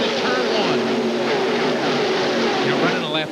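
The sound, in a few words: NASCAR race cars going by at Talladega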